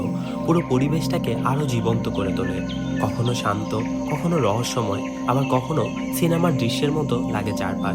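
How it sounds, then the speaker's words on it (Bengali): Crickets chirp in swarms among birdsong near a tea garden resort in Panchagarh, a steady insect trill with scattered bird calls running beneath continuous talk throughout. "পাখির ডাক, বিশেষ করে ঝাঁকে ঝাঁকে ঝিঝি পোকার শব্দ"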